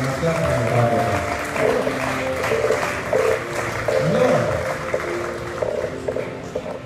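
Applause and cheering from an audience at a gathering, a steady sustained wash of clapping that carries on through the whole stretch beneath singing voices.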